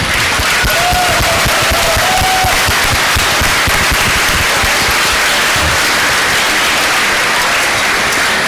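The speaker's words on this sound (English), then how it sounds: "So can we give a big round of applause?" A large fundraiser audience gives a big round of applause, a dense, loud, continuous wash of many hands clapping at once, sustained for several seconds with a faint murmur of voices beneath.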